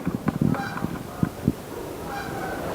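Waterfowl honking at Bachelor Brook, a stream running from Belchertown to the Connecticut River, with goose-like calls in a cluster of short bursts early on, then scattered single honks, fairly near over a steady outdoor background.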